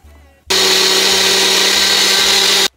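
Kitchen mixer grinder blending mango custard: after a short quiet lead-in, a loud steady motor whir starts abruptly, runs for about two seconds and cuts off sharply.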